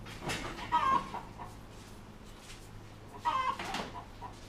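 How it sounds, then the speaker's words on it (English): Chickens cluck in two short bursts near the start and again past the middle, moderately close over a low steady background hum, with no talking. "You're hungry chickens."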